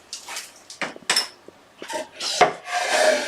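Close, scratchy rasping strokes of sandpaper on a wooden box, irregular bursts with short pauses, ending in a longer continuous rub.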